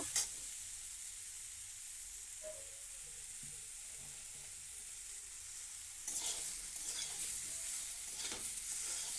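Mixed vegetables frying in oil with salt in a pan, a soft steady sizzle with occasional stirring scrapes that grow busier near the end, heard alone without talk.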